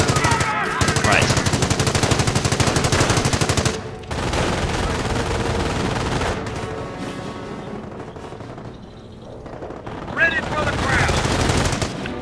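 Machine gun fire in the World War II strategy game Company of Heroes, long rattling bursts of rapid shots, loud and dense, pausing briefly before resuming amid battle noise, with voices shouting at times.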